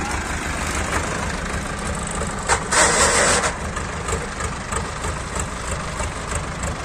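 An Eicher 557 or Sonalika 60 HP tractor engine runs steadily at a rural tochan pulling contest in Haryana, a continuous loud rumble that swells briefly about midway, with no talking.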